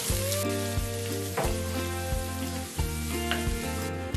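Chopped onion sizzles in a pan with fried garlic and ginger for dal tadka, a steady close frying hiss with an electronic tone running throughout and occasional stirring knocks.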